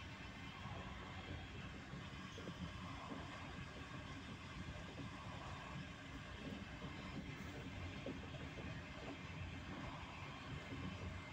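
A steady, continuous rumble of a train rolling along the tracks, with a dense low clatter that holds evenly throughout and no clear voices.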